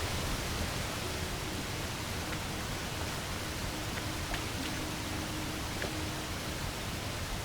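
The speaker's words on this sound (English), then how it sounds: "Sorry if the waterfall is too loud for y'all." A waterfall at Stone Cairn Lake in the game World of Warcraft Classic rushes as a steady, dense hiss that stays even throughout, with no talking over it.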